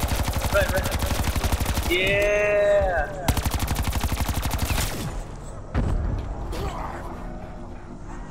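Rapid automatic gunfire aimed at zombies in Black Ops 4 zombie mode, loud and steady for several seconds with a mechanical creak in between. Players talk briefly over the shooting.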